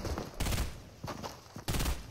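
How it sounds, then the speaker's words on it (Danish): Three loud shotgun blasts ring out in the video game Fortnite, spaced about half a second to a second apart, each with a booming low-end burst and a short decay. "Der er en eller anden shotgun skud."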